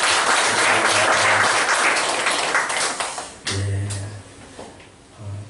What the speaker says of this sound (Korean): 우리를 낳아주신 부모님께 다시 한번 우리 감사의 박수 한번 드리겠습니다